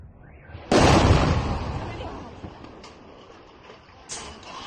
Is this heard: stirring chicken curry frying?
no